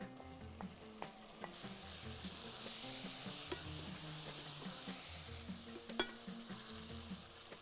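Tomatoes go into a sauteing pan for a Bahraini dish, giving a soft, steady sizzle. Faint stirring clicks and utensil taps sound against the pan, fairly quiet overall.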